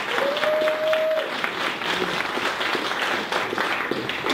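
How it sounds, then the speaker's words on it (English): An audience at a startup speaker event in LA claps for the speaker Shane, a steady crowd applause throughout with a few voices mixed in. "If we could give Shane one more round of applause"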